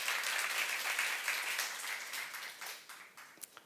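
Church congregation applauding during a youth sermon, a close, dense patter of clapping that thins over a few seconds into scattered individual claps.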